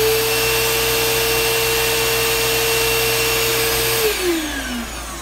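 A Bissell vacuum with a failing motor runs loud and close, a harsh, even roar with a strained whine. After about four seconds the pitch slides down as the motor spins down.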